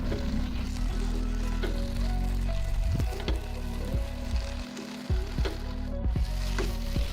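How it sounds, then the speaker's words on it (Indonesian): Papaya leaves and cassava leaves, boiled beforehand, sauté in a pan, giving a steady close sizzle with frequent scraping stir strokes and a brief dip partway through. "kita masukkan daun pepaya dan juga daun singkong yang udah kita rebus tadi. Kemudian kita tumis hingga tercampur merata"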